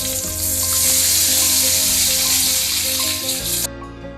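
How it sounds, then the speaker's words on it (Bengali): Whole cumin seeds sizzle in hot oil left from frying paneer, a loud, dense, close hiss with a faint hum beneath, cutting off abruptly near the end. "পনিরগুলি ভেজে তুলে নেওয়ার পর ওই তেলেই আমরা দিয়ে দেব হাফ টিস্পুন গোটা জিরে"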